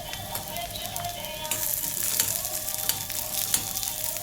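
Green onion sautés in a pan of oil with a steady, close sizzle and a few light scrapes of stirring, and there is no talk.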